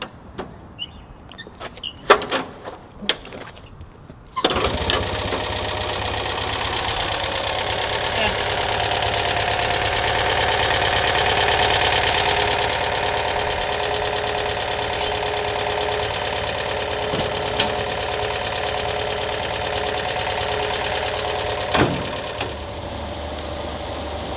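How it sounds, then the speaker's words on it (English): A 1959 Citroën 2CV engine is crank-started with a few sharp mechanical clunks, then catches and settles into a steady, buzzy idle that continues for about twenty seconds, with occasional clicks on top. "So I'll demonstrate how easily this thing crank starts."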